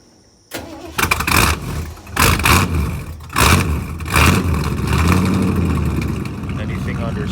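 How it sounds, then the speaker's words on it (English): A Ford truck engine cranks and catches, then runs rough at low revs. Uneven surging bursts give way to a loud, lumpy idle close by. "Anything under 1600 RPMs, this thing is running really rough."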